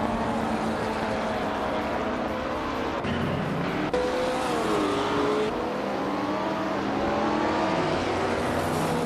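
A 1970 Alfa Romeo GT race car engine in a racing video game drones steadily and loudly, its pitch rising and falling through gear changes, alone without talk.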